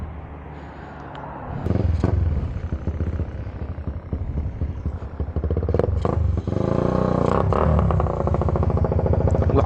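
A Honda Wave 100 motorcycle engine, a sleeper build, revving loudly up close. Rough, rattling bursts rise and fall, settle briefly, then surge again into sustained high revs.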